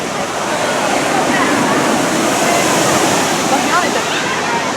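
A giant tipping bucket at a water park dumps its load, producing a loud, continuous rushing roar of cascading water that holds steady throughout.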